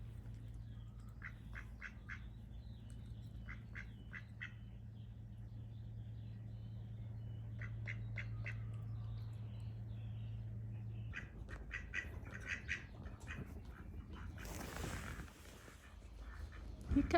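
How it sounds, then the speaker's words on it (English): Ducks quack in short repeated bursts through much of the stretch, moderately close, over a steady low hum of outdoor background, with a few louder calls near the end. "Here comes Mama Duck."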